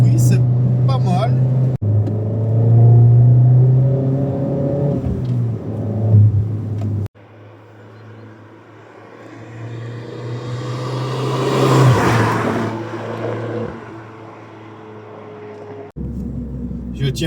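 A Fiat 500 Abarth with a stage 1 tune, driven on the road, its engine droning and then rising through a long rev before easing off, close and fairly loud, with some talking over it.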